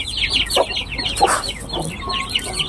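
Shamo chickens cluck in a busy, overlapping flurry at feeding time, with repeated short calls layered over steady background chatter from the flock at close range.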